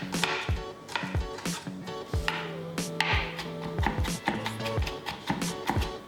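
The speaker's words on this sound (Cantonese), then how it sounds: "蒜頭切碎" Rapid knife mincing of garlic on a board, a dense run of sharp taps repeating closely, with other kitchen clatter and no voices.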